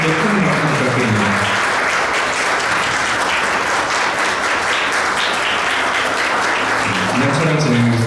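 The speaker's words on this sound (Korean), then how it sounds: "큰 박수 부탁드립니다" Sustained loud applause from a large crowd at a memorial ceremony and alumni foundation event, greeting a scholarship donation, dense and even clapping that continues throughout.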